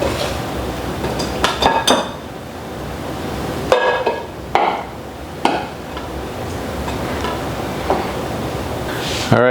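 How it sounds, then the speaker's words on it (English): A wooden spoon stirs flatbread dough with flour and chopped parsley in a bowl, giving scattered scraping clinks and knocks against the bowl at close range, with kitchen background noise and brief moments of talk. "And using the wooden spoon to get it all together."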